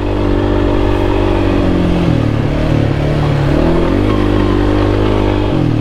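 A 2021 Kawasaki Brute Force 300 ATV engine hums loud and steady while riding, its pitch rising and dipping as the throttle changes.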